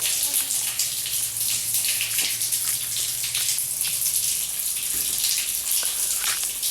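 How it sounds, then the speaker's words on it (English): Water from a bathroom flows into a newly installed septic tank for the first time, a steady, hissing gush that runs on without a break and stays even in loudness, with no talking. "First time water's running to this tank."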